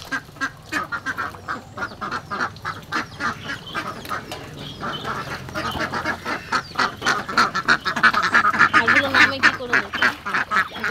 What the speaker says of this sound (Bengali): এবার হাঁসগুলোকে ছাড়বো